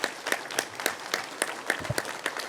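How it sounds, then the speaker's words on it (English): Applause breaks out at a school board meeting, with brisk, moderately loud clapping from a modest crowd filling the room steadily for a couple of seconds. "Please give Janae and Adrian a huge round of applause"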